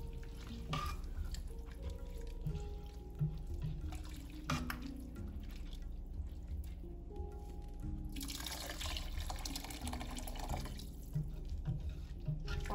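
Pre-heated water, four cups, poured into a pot of rice for Spanish rice, a rushing, splashing pour that swells in the middle and then eases off, heard close and on its own.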